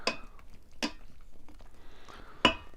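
A spoon stirs food inside an Instant Pot Rio 4-quart pot, giving a few sharp metallic clinks and scrapes, close and distinct, with quiet pauses between them.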